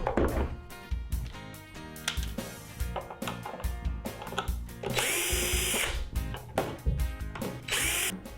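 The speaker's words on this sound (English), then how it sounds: "We're going to start by removing all 12 Phillips head screws from the outside of the box today." A power drill backs Phillips head screws out of a battery box, short whirring bursts and longer high-revving runs separated by clicks and knocks, close and crisp.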